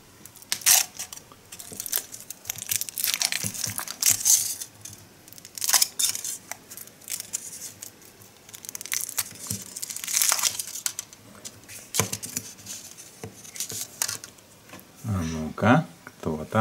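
Kinder Surprise eggs from a big surprise egg are unwrapped with repeated crinkling and tearing of foil and small plastic clicks, while voices talk over the handling.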